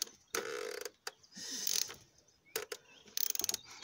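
Oil filter housing being tightened by hand on a BMW 330d E46 with the M57 diesel engine, short bursts of ratcheting clicks and scraping separated by pauses, close and fairly quiet.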